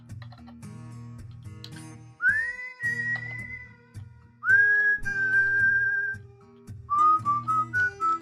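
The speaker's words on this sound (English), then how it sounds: "Sorry, I'm getting a little bit whistly there." A person whistling a few sustained, wavering notes in three phrases, the last broken into short repeated pulses, loud and close over a soft rhythmic music backing.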